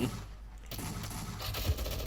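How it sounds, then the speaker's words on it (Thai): A gatling gun fires in a Roblox anime dungeon fighter game, producing a dense, continuous rattle of rapid shots that runs steadily through the whole short burst. "อ๋อยิงแกติ้งกันโคตรโหด"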